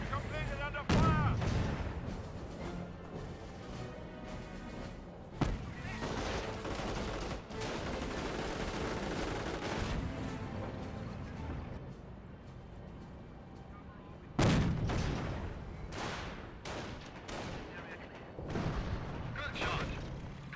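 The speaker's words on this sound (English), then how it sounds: "Mortar locked on down, firing away." Mortar and artillery fire in Company of Heroes, with booming shots and blasts scattered through a dense, noisy battle soundscape and a voice commenting over much of it.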